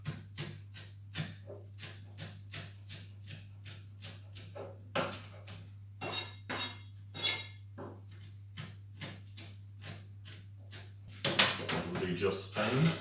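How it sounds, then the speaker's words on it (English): A kitchen knife chops fresh rosemary needles on a board in a steady run of sharp taps, close and fairly quiet, with a low steady hum underneath and some clatter near the end. "then just give it a quick chop"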